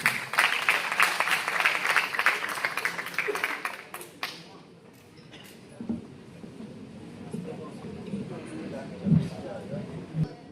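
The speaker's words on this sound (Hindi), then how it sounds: "तालियां बजाइए राजवीर राज।" Audience applause at a Hindi-Urdu poetry recital, a dense burst of clapping for about four seconds that fades into room murmur with scattered claps and faint voices.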